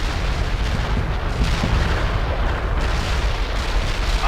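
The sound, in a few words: artillery barrage explosions in World in Conflict video game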